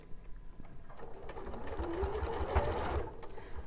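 Sewing machine stitching textured fur fabric for a toy, a continuous close whirring hum that builds and holds steady, with no voices.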